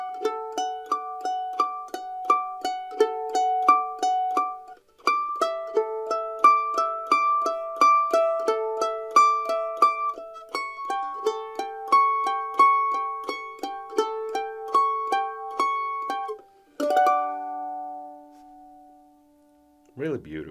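Mandolin plucks a run of bars from Bach's Cello Suite No. 1 Prelude, fast even arpeggiated notes ringing clearly and close, ending with a held chord and a brief voice at the end.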